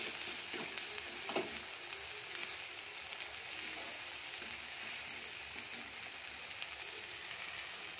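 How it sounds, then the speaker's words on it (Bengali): Spice paste with tomato for chicken kosha fries and is stirred in a pan, giving a soft, steady sizzle with faint scraping taps from the spatula, quiet and unbroken by speech. "এই মশলাটাকে ভালো করে কষিয়ে নেব।"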